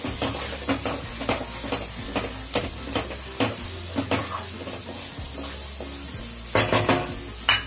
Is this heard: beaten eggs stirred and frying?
yes